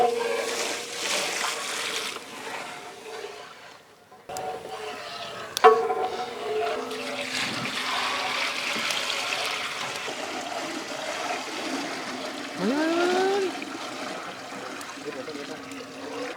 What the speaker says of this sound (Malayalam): ഇനി നമ്മളിതേ വെള്ളം ഒഴിച്ചു കൊടുക്കാണേ.